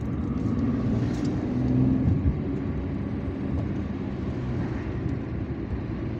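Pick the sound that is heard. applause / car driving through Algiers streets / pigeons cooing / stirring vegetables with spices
car driving through Algiers streets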